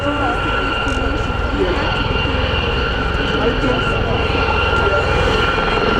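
Westland-built Gazelle helicopters of the Gazelle Squadron flying in formation at the RAF Cosford airshow: a steady, loud rotor and turbine drone with whining tones, heard under a public-address commentator.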